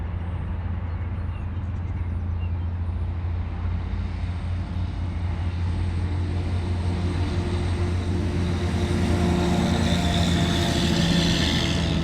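Aircraft engine droning low and steady above the Palace of Auburn Hills arena as its roof is demolished, a continuous loud hum with a slight rise in intensity near the end.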